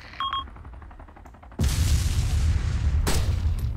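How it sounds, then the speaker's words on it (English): Cannon fire in the military game Arma II: a loud, sudden boom cuts in partway through and rumbles on, with a second sharp blast following about a second and a half later, after quieter scattered sounds. "There's a cannon down there shooting at me."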